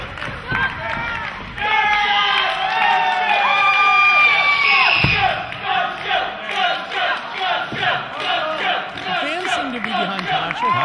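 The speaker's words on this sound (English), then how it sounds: "I think they're cheering for Deonna." A wrestling crowd at a Tasha Steelz vs Deonna Purrazzo match roars and cheers loudly, then breaks into rhythmic chanting that pulses steadily to the end.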